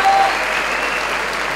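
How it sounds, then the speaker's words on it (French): Applause from a graduation ceremony audience for the 2017 class at Pôle Léonard de Vinci, a loud, dense crowd clapping that carries steadily throughout without voices. "Applaudissez-le bien fort avec la W."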